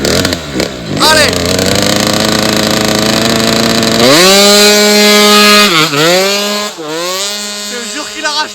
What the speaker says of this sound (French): Non, c'est un moteur booster.